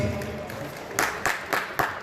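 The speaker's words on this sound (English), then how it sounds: "Give him a round of applause, everybody." Applause at the start of a football league season event. A few separate sharp claps ring out in a slow, irregular rhythm, with low crowd murmur beneath.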